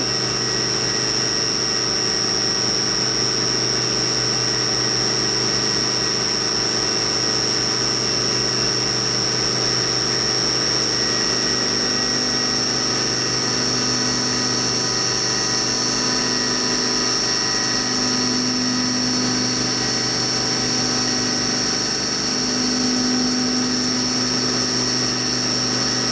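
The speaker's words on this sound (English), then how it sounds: "And now there's a cutoff operation." A Haas milling machine fitted with an HA5C fourth-axis rotary indexer runs a cutoff operation, giving a continuous steady mechanical whine and hum with a faint recurring tone, loud and unbroken throughout.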